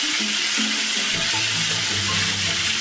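Chicken and minced garlic sizzling in a pan, a loud, steady, hissing fry with some low bubbling and clatter, no voices.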